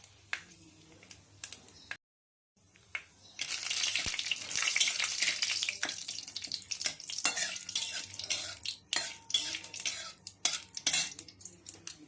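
A bay leaf and dried red chili stirred in hot oil in a pan, brief utensil clinks and scrapes followed by a swelling sizzle with intermittent stirring knocks, close and without voices.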